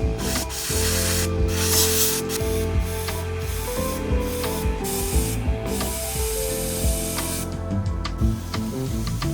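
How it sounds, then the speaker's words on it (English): A steam cleaning machine works over the cabin of a Mitsubishi Lancer Evolution VI, around the steering wheel and dash, giving repeated sharp hissing bursts and rubbing sounds over a steady background drone. "we're using a steam machine to detail the rest of the cabin"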